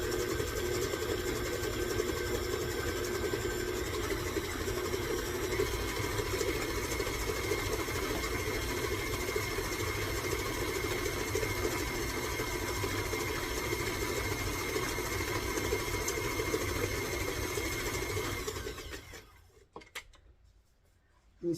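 An electric mixer runs on low speed, creaming cookie dough for chocolate chip barley cookies. Its motor whirs steadily and closely for nearly twenty seconds, then stops, leaving a few faint clatters.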